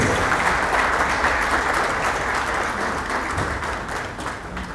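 A crowd claps together at an award ceremony, a dense, loud wash of applause filling the room and fading slightly toward the end, with no voices over it.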